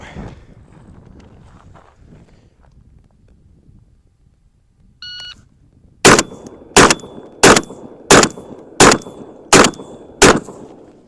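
A semi-automatic shotgun, a Mossberg 940 Pro or a Benelli M4, fires slugs in a rapid string of seven loud, sharp reports about 0.7 seconds apart. Quiet outdoor ambience and a short electronic beep come just before the shots.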